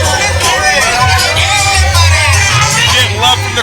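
Crowd noise at a PCW independent pro wrestling show in Yuba City, cheering for the masked luchador Tortuga of the Mexi-Machos tag team; steady hubbub and scattered voices fill the room, loud and close throughout.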